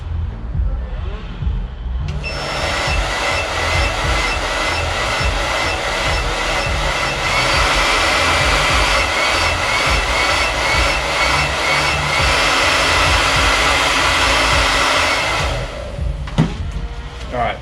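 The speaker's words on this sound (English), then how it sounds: "my batteries definitely don't have enough juice to run a 1500 watt hair dryer" A 1500 watt hair dryer switched to warm runs on an RV's power inverter, a loud steady whooshing roar with a fan whine that starts abruptly, holds for about thirteen seconds, then cuts off.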